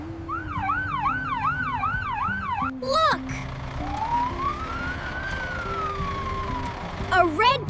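A fire truck siren wails in rapid rising-and-falling cycles, then sweeps in a slower, drawn-out tone as it draws near, with voices talking over it.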